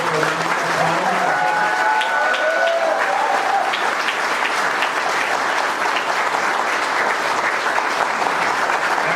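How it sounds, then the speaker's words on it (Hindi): A panel discussion audience on direct selling training breaks into loud, sustained applause that carries evenly from start to finish, with faint background voices. "आइए एक बार हम जोरदार तालियों के साथ"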